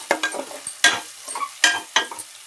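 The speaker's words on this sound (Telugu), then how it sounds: "ఆనియన్స్ వెజిటేబుల్స్ అన్నీ వేసుకొని ఫ్రై చేసుకోవాలి." Onions and vegetables are stirred and fried for veg biryani, with repeated scraping spatula strokes over a light sizzle, close and fairly loud, in an irregular rhythm.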